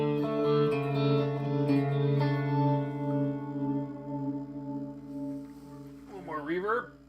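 Electric guitar played through a reverb effect pedal, sustained notes and chords ringing out with a long washy tail, a brief voice heard near the end.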